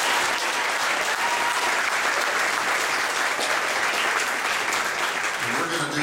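Dense, steady applause from a concert audience at a university jazz ensemble performance, honoring a guest trumpeter, sustained loudly throughout with no break.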